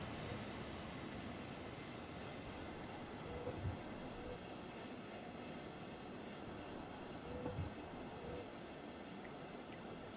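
A freight train in Train Sim World rumbles steadily as it switches onto the Berlin–Dresden line in snowy Dresden. The low, even rolling noise runs throughout, with faint clanks.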